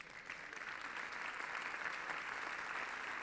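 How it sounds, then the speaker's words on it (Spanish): An audience at a sports gala claps steadily, a fairly soft but sustained round of applause that builds slightly after the start and continues evenly. "Fuerte el aplauso para ellos."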